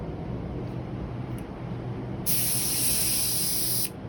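A steady, loud hiss of a Pro Xp electrostatic paint spray gun, electrostatics switched off, starts midway over a constant background rush, holding for about two seconds before cutting off.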